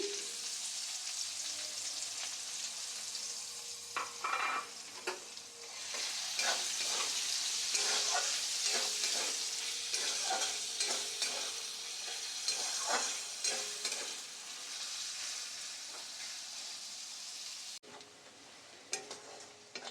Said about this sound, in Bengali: তেলের মধ্যে দিয়ে দেবো পেঁয়াজ কুচি